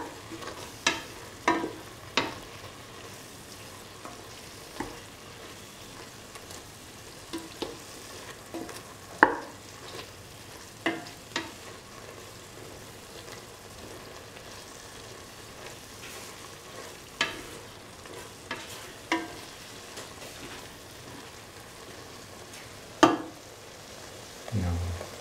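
Scrambled egg and eggplant are stir-fried in a pan, a low steady sizzle broken by scattered clinks and scrapes of the utensil stirring the mix, close and moderately quiet.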